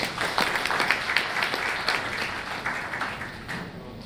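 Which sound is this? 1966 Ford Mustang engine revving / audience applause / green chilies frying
audience applause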